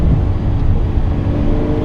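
A 2018 Lamborghini Aventador S engine heard from inside while driving, a steady, loud, low rumbling drone with no speech.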